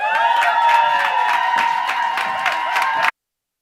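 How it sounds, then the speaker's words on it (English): Audience at a South African Women's Month gathering of a women's leadership network clapping rhythmically beneath a sustained, high, ringing cheer. The sound is loud and close, then stops abruptly. "applause"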